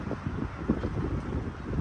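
Strong stormy wind near a highway in Germany buffets the microphone with a loud, continuous low rumble and gusting roar for a brief moment.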